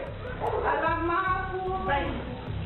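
A dog barks and yips repeatedly, close by, in short bursts over overlapping voices talking.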